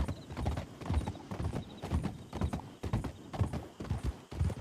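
Horses gallop in a video game, hooves clip-clopping in a quick, regular beat that sounds close and fairly loud, with no talk over it.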